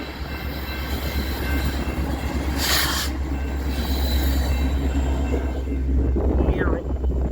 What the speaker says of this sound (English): Empty westbound coal drag.